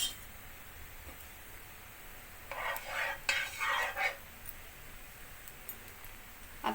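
A spoon stirs half a spoon of ghee in a pan on the gas before dry fruits go in for coconut ladoos, with a short cluster of scraping strokes mid-way against an otherwise quiet background.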